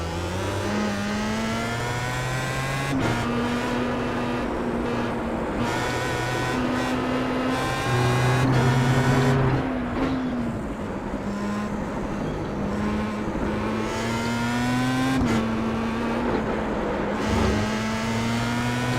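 In the iRacing video game, a Star Mazda race car engine howls continuously, its pitch climbing through each gear and falling sharply on upshifts and downshifts, loud and steady throughout.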